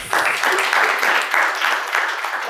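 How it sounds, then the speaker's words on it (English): Audience applause after a speaker is introduced at a real estate investing seminar, a dense, steady round of clapping from a crowd lasting a couple of seconds. "How about a round of applause"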